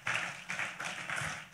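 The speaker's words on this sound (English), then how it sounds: "Let's clap our hands again to God." A church congregation claps in a short run of rhythmic bursts, with several loud rounds of handclaps at moderate distance and a faint murmur beneath.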